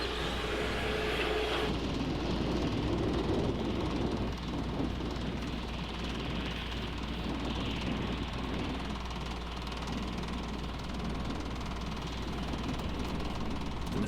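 A pneumatic compressor runs steadily in the background, a continuous low mechanical drone with broad hiss that holds at an even level throughout, with no one talking.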